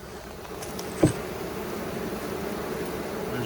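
Honey bees hum in a steady, dense drone around an open hive during a queen-banking inspection, close and continuous, with one brief soft knock partway through.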